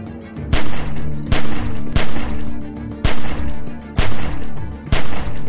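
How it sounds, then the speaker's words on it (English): Gunshots in The Walking Dead video game fire at a window, sounding as about eight loud, separate blasts spaced roughly evenly with short echoing tails between them. "Just shoot at the window and keep that fucker's head down till I get where I'm going"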